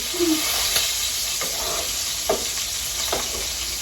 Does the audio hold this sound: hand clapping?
no